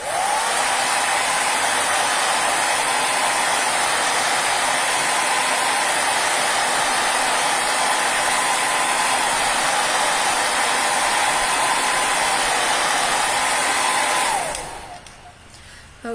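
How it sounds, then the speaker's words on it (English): Hair dryer blowing on freshly painted boxes, a loud, steady whooshing roar with a constant motor whine running unbroken for about fourteen seconds before switching off and winding down. "I'm real quick going to use the hair dryer on these boxes here"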